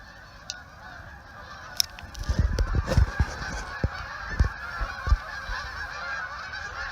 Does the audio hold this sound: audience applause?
no